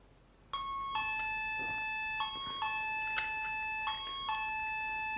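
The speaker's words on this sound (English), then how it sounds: "The door sensor becomes a doorbell" An X9 GSM alarm door sensor set to chime mode sounds a bright, ringing electronic doorbell tone that repeats several times in quick succession, with each note sustained and clear against a quiet room.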